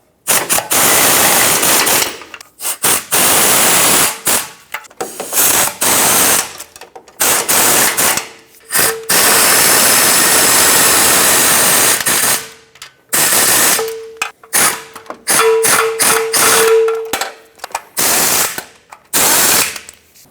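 A ratchet snugs up oil pan bolts on a 2008-2012 Jeep Liberty 4x4, its close, rapid clicking arriving in repeated bursts separated by short pauses, with no talking.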